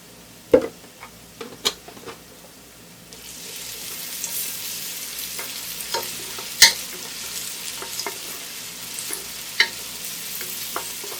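Ginger garlic paste frying with spices and onion in a pot, starting with a few sharp spoon clinks and scrapes, then a soft, steady sizzle with occasional stirring knocks.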